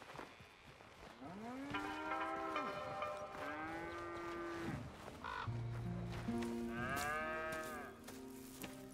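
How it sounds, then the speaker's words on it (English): Cows mooing in Red Dead Redemption 2 on a dairy farm, several long, loud moos one after another, some overlapping, over a quiet outdoor background without speech. "Here's the cows."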